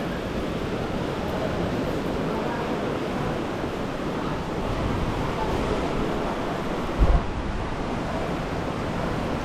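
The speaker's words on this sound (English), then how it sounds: "waves are definitely a little bit more than I expected" Ocean waves break and wash along a beach in Bali, a steady broadband roar of surf with wind rushing over the microphone and one brief thump near the end, no voices.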